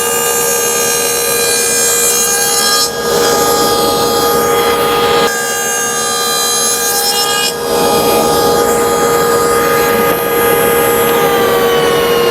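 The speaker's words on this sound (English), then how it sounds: "cut a 1/2 inch by 1/2 inch rabbet on the back edges of 2 of my sides and the top piece for the 1/2 inch thick cabinet back" A table saw fitted with a dado stack cuts a half-inch by half-inch rabbet along the back edges of wood cabinet side and top pieces, a loud steady whine held throughout with brief dips between passes, no talking.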